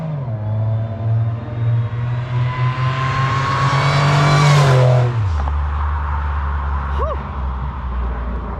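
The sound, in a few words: supercharged Pontiac Bonneville SSEi engine revving during burnout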